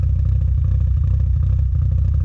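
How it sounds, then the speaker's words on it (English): A 1990 FC RX-7 with dual exhaust idles close by with a deep, steady rumble, rough throbbing exhaust note and faint clatter, holding constant without revving. "I like the dual exhaust, but I also like the sound of a single."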